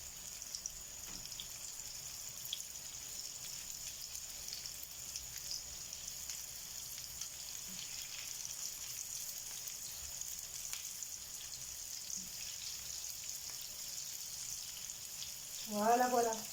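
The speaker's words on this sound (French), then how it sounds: "vous les mettez dans votre poêle et vous les laissez chauffer" Meatballs frying in a pan, a faint steady crackling sizzle throughout, with a short burst of louder tonal sound at the very end.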